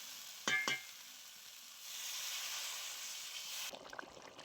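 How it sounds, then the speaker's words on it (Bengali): Spice masala bubbles and hisses gently in a pan after a splash of water is added, a steady soft sizzle with a brief louder clatter near the start and light stirring knocks at the end. "এবার আমি অল্প জল দিয়ে ফুটিয়ে নেব।"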